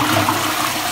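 Toilet flush in a bathroom at a five-star resort hotel in Belek, Turkey, a brief close rush of water heard alone.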